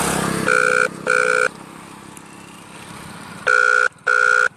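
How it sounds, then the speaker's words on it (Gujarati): Ringback tones from an outgoing phone call to a minister, heard as two pairs of loud, electronic double rings separated by a few seconds of quiet line noise. "આ આત્મારામ પરમારને મેં ફોન લગાવ્યો છે, તમે જોઈ શકો છો."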